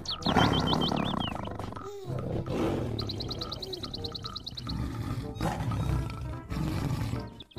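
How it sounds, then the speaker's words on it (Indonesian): A toy tiger plays a recorded roaring sound, a loud growling roar mixed with chirpy electronic tones, continuing under and around brief gaps, close to the listener. "yang ini harimau"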